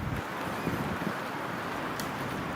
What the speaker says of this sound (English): Windy and snowy.